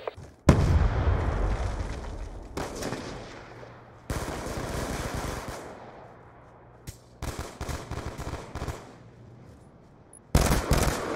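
A grenade explosion and bursts of automatic gunfire from Call of Duty Black Ops 2 multiplayer, with loud booming blasts and rattling shots separated by brief lulls.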